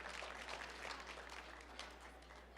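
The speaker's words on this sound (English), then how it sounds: "let's give Blake a round of applause" Applause from a pitch-event audience at a large trade show, a steady, somewhat distant wash of many hands clapping over a constant low hum from the hall.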